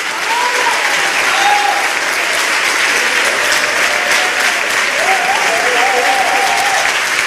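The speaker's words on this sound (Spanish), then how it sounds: "esta ovación es para ella, por supuesto que sí." Loud, sustained ovation at a short-film festival gala, thick continuous applause filling the hall, with faint voices and a few cheers rising through it.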